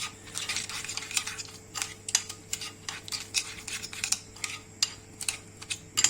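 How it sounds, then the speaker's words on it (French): Shrimp being stirred with soy sauce in a pan, a utensil scraping and clinking against the metal in quick, irregular strokes at close range, with a steady low hum beneath. "on mélange un petit peu"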